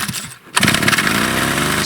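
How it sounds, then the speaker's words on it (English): A scooter powered by a chainsaw engine revs up after a brief lull, a loud, raspy two-stroke buzz that holds steady and close. "Here comes one more trial for the chainsaw scooter."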